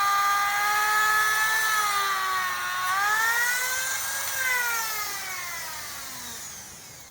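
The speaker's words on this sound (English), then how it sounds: "I'm going to get my knockoff Dremel and polish the frets" A knockoff Dremel rotary tool polishes the frets of a quilted maple Stratocaster, its high whine shifting up and down in pitch as the speed and load change, steady and close for about seven seconds before easing off.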